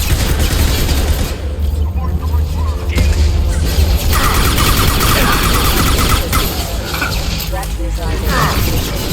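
Video game combat with gunfire and explosions, a dense sustained barrage of mechanical clatter and shots with booming blasts, loud and continuous, with voices speaking over the action.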